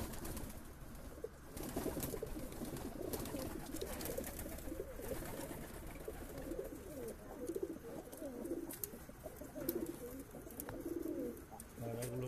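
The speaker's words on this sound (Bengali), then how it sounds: "পায়রাগুলোকে দেখানোর চেষ্টা করলাম।" Pigeons in a loft give soft, low, repeated coos, several birds murmuring close by against a steady hum of background noise.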